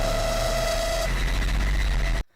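An anime sound effect resembling two drills grinding against each other: a dense, harsh mechanical roar with a steady whine that drops out midway, then a loud rumbling grind that cuts off abruptly.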